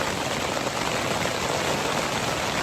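Steady, dense rain pours onto a backpacking tent during a thunderstorm in Rocky Mountain National Park, a continuous close hiss of drops drumming the fabric with no voices.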